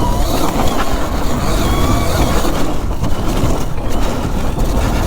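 Electric enduro bike bouncing over bumpy off-road ground, a steady loud rumble of rattling, crunching suspension and tyre noise with wind buffeting, continuous throughout.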